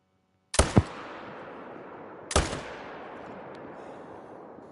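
Two loud, sharp rifle gunshots in a deer hunting video game, each followed by a long fading echo, spaced about two seconds apart in otherwise quiet surroundings.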